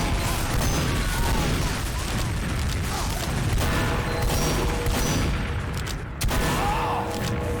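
Dense, continuous gunfire and explosions from a Team Fortress 2 match, loud rapid shots layered over one another without pause, with a brief dip before the barrage resumes.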